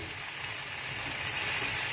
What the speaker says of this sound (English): Keep stirring, let it sizzle, and what you want is a nice paella.